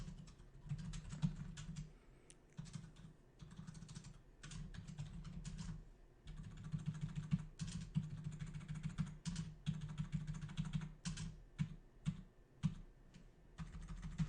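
Steady, rapid typing on a computer keyboard, close up, with bursts of keystrokes and brief pauses between them.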